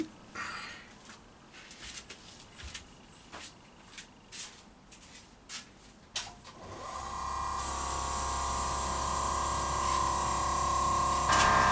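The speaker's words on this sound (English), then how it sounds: "Good thing I got Milwaukee compressor." A Milwaukee air compressor switches on after a few sharp clicks and clatters in a garage workshop, then runs with a steady, loud motor drone and hiss that holds to the end.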